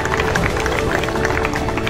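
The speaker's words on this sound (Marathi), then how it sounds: "टाळ्या वाजून ग्रामस्थांच्या वतीने त्यांना शुभेच्छा देऊया आपण" Villagers clap for students at a school Republic Day celebration in Vadapur, a busy crowd's clapping blended with murmuring voices and background bustle, steady and fairly loud.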